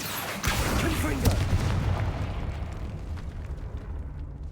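A Confringo spell explosion in the Hogwarts Legacy video game starts with a sudden loud blast, then a rumbling roar that slowly fades over several seconds.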